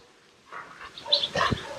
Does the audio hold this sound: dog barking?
yes